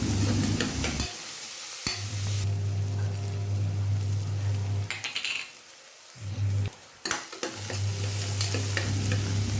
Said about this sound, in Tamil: பெரிய வெங்காயம் சேர்த்து ஸ்டவ்வை ஹையில் வச்சு நல்லா வதக்கி விட்டுக்கோங்க.